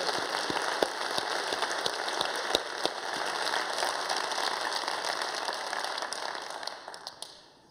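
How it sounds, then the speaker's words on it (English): An audience at a forum's closing plenary claps in a dense, steady wash of applause, even and sustained before fading out at the end. "I think you deserve some applause."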